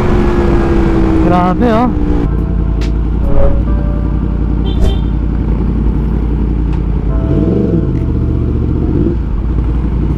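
A Yamaha MT-10 motorcycle with an Akrapovic exhaust revs loudly up close, its engine rising and falling in pitch over a deep rumble, while a voice briefly exclaims.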